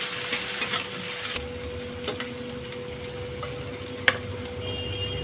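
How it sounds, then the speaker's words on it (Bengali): Garlic fries in a pan of hot oil after onion, giving a soft, continuous sizzle with a few light clicks and one sharp tap of a utensil, no talking. "রসুনটা দিয়ে ভালো করে ভেজে নেবো"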